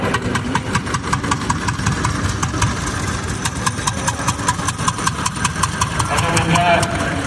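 A 1950 Farmall tractor engine chugs in a rapid, steady rhythm as it rolls by in a threshing show parade, fairly close, with an announcer talking over it.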